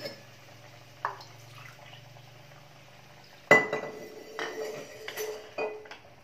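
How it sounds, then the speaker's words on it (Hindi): Water pours into hot curry masala for Hyderabadi mirchi ka salan in a pot, setting off a sudden hiss and splash. Scattered clinks of a utensil follow, after a low kitchen hum. "अब इसमें हम 2 कप पानी डालेंगे"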